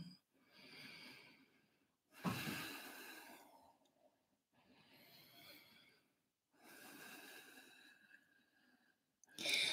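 Deep breaths during a yoga splits practice, four long audible inhale-exhale cycles with quiet gaps between them, close to the mic and soft, with a sharper snort-like breath near the end.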